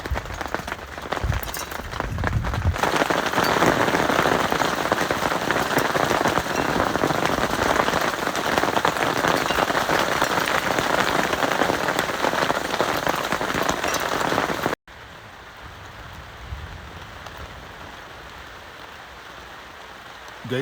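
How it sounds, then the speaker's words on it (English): Steady rain patters on a tent, dense and close, then continues more softly after a sudden drop in level. "So it's raining. Thank goodness. We need the rain."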